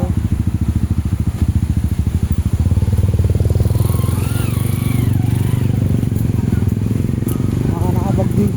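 A big bike's motorcycle engine runs close by with a steady, thumping low rumble that throbs in regular pulses and stays loud throughout.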